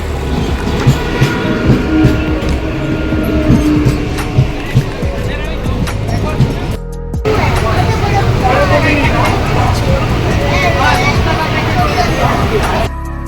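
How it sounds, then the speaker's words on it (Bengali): A train rumbles and clatters loudly nearby as it rolls into Dum Dum Junction, with rhythmic wheel clacks, squeals and people talking over the noise. "ট্রেন ঢুকছে"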